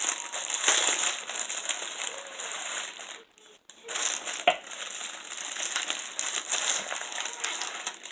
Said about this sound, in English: Sorry for the crinkling